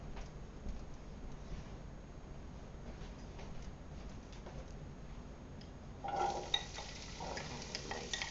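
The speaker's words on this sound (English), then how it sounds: "Nice sizzle. That's what you want to hear. With the carrots, onions." Carrots and onions sautéing in oil for chicken tortellini soup, a steady low crackling sizzle close by, with stirring clicks and a brief louder scrape near the end, no talking.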